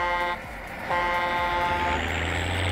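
In the farming game Landwirtschafts-Simulator 19, a small tractor's thin, reedy horn sounds in two short honks over a low engine rumble, close and loud.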